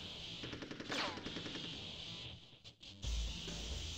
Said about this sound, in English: Oh, it was a mech that was firing at me.